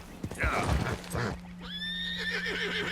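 A horse in Red Dead Redemption 2 gives a loud whinny after a few clip-clopping hoof steps and brief voice sounds, with a steady low hum underneath.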